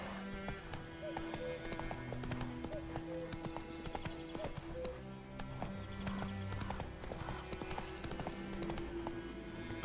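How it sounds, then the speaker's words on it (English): Horse hooves clip-clop steadily in The Witcher 3 next-gen, a continuous trotting rhythm with an occasional whinny over a dense game soundscape of ambience and music. "Whoa there, Roach."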